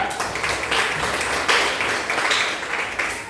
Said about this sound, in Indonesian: kita kasih aplaus dulu ke kelompok 2